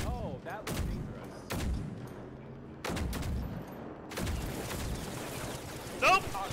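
Gunfire in the video game Generation Zero, an enemy firing incendiary ammo: several loud bursts of shots at uneven intervals, close by, with someone talking between them.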